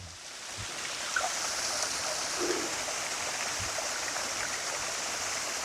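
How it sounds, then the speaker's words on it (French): Steady rushing of a small waterfall in Tam Coc, a continuous bright splashing roar, close by and uninterrupted. "petite cascade"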